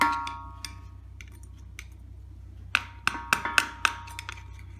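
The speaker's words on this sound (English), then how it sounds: "just take your hammer, make sure it's in there" A hammer taps a wheel bearing into the front knuckle of a 2003 Nissan Altima 3.5, with a few faint metallic ticks early on, then a quick series of sharp, close, ringing strikes near the end over a low steady hum.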